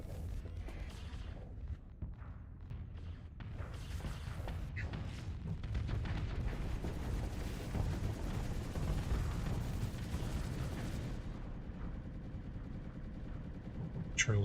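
A Squall missile barrage in the space combat game Starsector rumbles as dense booming impacts and rapid weapon fire, low and continuous, building to a heavy churning roll; a player talks faintly over it.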